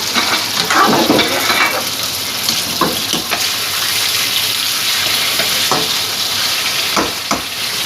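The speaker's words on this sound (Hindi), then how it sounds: "सबसे पहले हम डालेंगे चिकन। चिकन को हम हल्का ब्राउन" Steady crackling sizzle of chicken frying in a pan for karahi, with a few sharper pops and stirring scrapes throughout, close and fairly loud.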